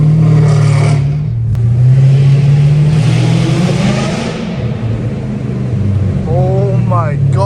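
A Dodge Hellcat Redeye's supercharged V8 revving loudly while drifting, a heavy roaring engine drone that swells and eases, with a high whine rising at the end and someone speaking over it.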